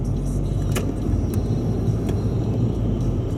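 Steady car cabin rumble while driving along a road, heard from inside the vehicle, a continuous low engine and tyre drone with a few faint ticks, no talking.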